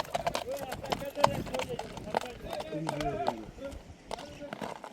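Horse hooves clip-clopping at a steady running pace among a crowd of people talking, with occasional sharp knocks rising above the voices.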